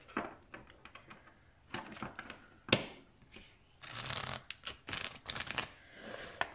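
Tarot cards are shuffled close up at low volume, with soft riffling and flicking bursts between quiet pauses and a sharp snap partway through.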